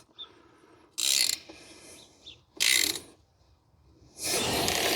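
A socket ratchet snugs down valve cover bolts on a 1968 Ford Thunderbird 429, three short bursts of rapid clicking separated by quiet pauses, the last burst longer; close up, with no speech.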